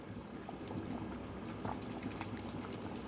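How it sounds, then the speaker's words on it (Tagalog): Chinese soup simmering in a pot on a Hong Kong stove, a soft, continuous low bubbling and gurgling heard close and quiet, with no talking. "20 minutes po siyang kumukulo na ganyan."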